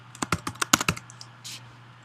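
Keys clatter on a computer keyboard in a quick, uneven burst of about ten close, crisp taps over a low steady hum, then a brief softer rustle, with no talking.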